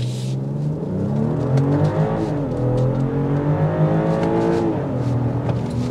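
A 2023 BMW X7 SUV in sport mode pulls hard from inside the cabin, engine note climbing steadily through the revs with a brief dip like a gearshift, loud and continuous, no talk.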